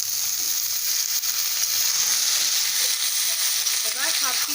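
Chopped garlic, ginger and tomato frying in hot oil for a soya kofta curry: a loud, dense, continuous sizzle up close, with a faint spoon scrape near the end and no speech.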